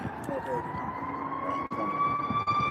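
An emergency vehicle siren sounds outside, a sustained wailing tone that rises slowly in pitch, with road traffic rumbling underneath and talk indoors over it.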